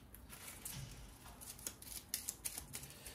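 Quiet riffling and snapping of playing cards being shuffled, a soft flutter followed by a few sharp clicks near the end.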